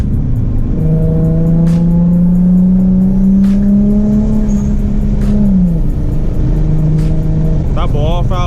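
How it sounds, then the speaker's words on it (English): A Nissan G35 with a rear-mounted turbo pulls hard, its loud engine note rising steadily before dropping as the revs fall, then climbing again; a blow-off valve chatters at the very end, and people talk over it. "That blow-off valve is crazy."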